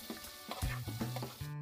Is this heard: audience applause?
no